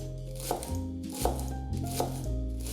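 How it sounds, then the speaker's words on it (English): A knife finely chopping a leek on a board, close and crisp, with a few distinct chops spaced roughly half a second apart over a faint steady background hum. "Finely chop one leek"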